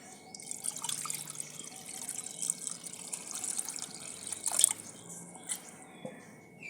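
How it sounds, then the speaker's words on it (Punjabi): Water poured into a pan for bharva karela (stuffed bitter gourd), a soft trickling and splashing with a few brief spatters, close and quiet. "ਹੁਣ ਆਪਾਂ ਪਾਣੀ ਪਾਵਾਂਗੇ"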